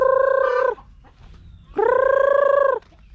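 Free-range Brahma hens call up close in two loud, drawn-out, wavering clucks separated by a short quiet gap.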